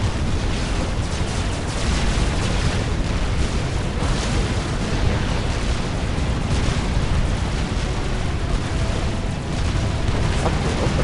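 Dense, continuous battlefield din from Supreme Commander, with units opening fire amid rolling explosions and booms that merge into one loud, unbroken roar with no letup, and no voices over it.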